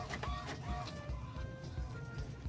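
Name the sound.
HP OfficeJet Pro printer calibrating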